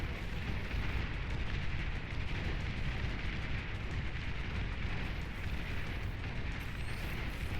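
Continuous roar of explosions as energy buildings are destroyed in the strategy game Beyond All Reason, a dense, loud rumbling barrage with no pauses across the whole stretch.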